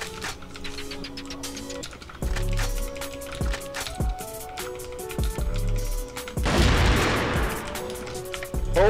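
Gunfire in a shooter video game sounds as repeated sharp shots and bursts over game music and effects, with a louder, denser blast near the end.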